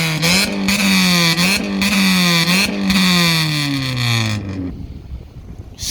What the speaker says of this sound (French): tu fais des petits coups de gaz derrière